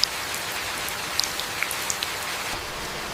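Heavy rain pours down in the Amazon jungle as a dense, steady hiss, with close raindrops pattering and ticking on leaves now and then.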